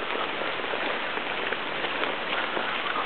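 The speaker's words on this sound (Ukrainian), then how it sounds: "Дощик плиє, ну, можна сказати, порівняно слабенький" Light rain falls steadily as a soft, even patter with no speech, like drizzle over people walking home outdoors.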